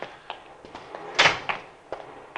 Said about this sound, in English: He's forcing the door.